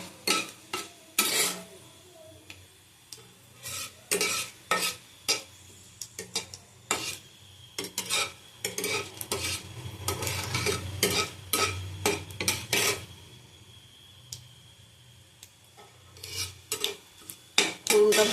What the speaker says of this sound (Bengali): 5 ফোড়ন দিলাম, শুকনো লঙ্কা দিলাম, তেজপাতা দিলাম। ভালো করে ফোড়নটা ভেজে নেব।